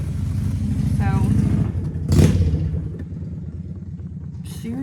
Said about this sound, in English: Sorry, that was a very loud motorcycle.